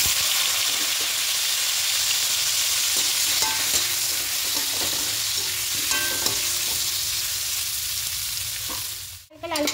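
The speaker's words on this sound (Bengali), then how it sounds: "প্রথমে আলুগুলোকে দিয়ে একটু হালকা করে ভেজে নেব।" Potatoes fry lightly in hot oil, a steady close sizzle with scattered clinks and scrapes of stirring, ending in a short clatter.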